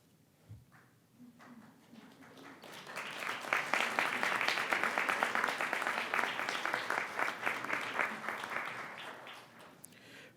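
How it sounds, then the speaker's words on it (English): Graduates at a community college commencement ceremony rise and applaud their families and friends: after a quiet start with a faint voice, a large crowd's clapping swells to a loud, sustained roar and then begins to taper. "Graduates, I offer you this opportunity to rise and applaud the family members and friends who have helped"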